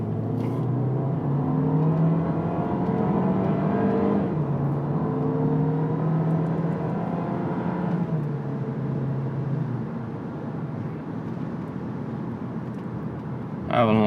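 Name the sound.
2022 Volkswagen Taos SEL accelerating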